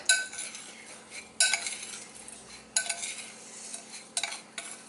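Breadcrumbs and olive oil stirred together in a bowl for stuffed zucchini, a spoon scraping and clinking against the dish in several short bursts separated by brief pauses, close and fairly quiet.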